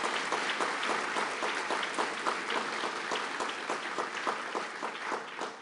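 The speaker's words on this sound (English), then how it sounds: "let us give Shaila Multan a round of applause" Sustained audience applause at a naturalization ceremony, a dense steady clapping from a large crowd holding at even strength throughout with no voices over it.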